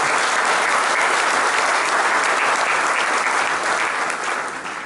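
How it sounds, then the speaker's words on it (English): An audience at a Sri Sathya Sai Baba 100th birthday celebration in New Zealand applauds a speaker, Dr. Dinesh, with sustained, even clapping that holds strong throughout before gradually thinning toward the end. "Can we please give another round of applause to Dr. Dinesh?"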